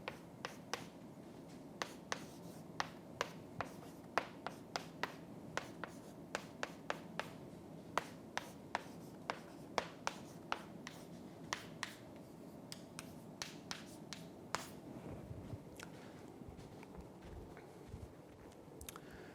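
Chalk or pen writing on a board during a university math lecture on the Cantor ternary set, heard as a steady run of faint, quick taps and strokes over low room hum, with no talking.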